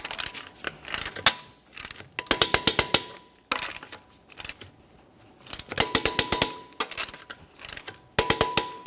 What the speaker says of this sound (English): We're going to torque both side front wheels to 140 in a crisscross manner